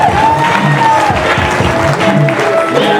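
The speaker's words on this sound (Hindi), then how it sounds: "जोरदार ताली हो जाए दोस्तों" An audience claps loudly and steadily throughout, dense sustained applause with no gaps.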